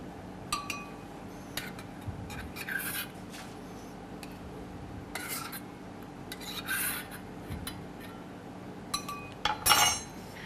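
Oysters are lifted out of their cooking juice with a utensil, giving scattered scraping, rasping and clinking of shell and metal against a pan, close by and uneven, with a brief louder clatter near the end.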